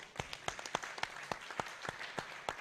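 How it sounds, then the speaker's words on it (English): A small audience claps at a photo festival event in Abuja, sparse individual claps at an irregular rhythm, fairly faint and distant. "give a big round of applause to Jide wherever he is"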